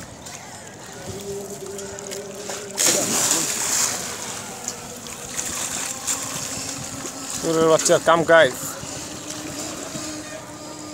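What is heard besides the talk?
boat moving on water with splashing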